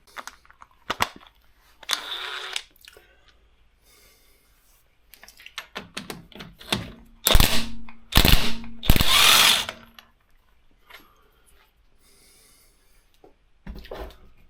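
A cordless impact gun removes a wheel bolt in several short bursts of loud rattling hammering, with quieter clicks and handling noises between them.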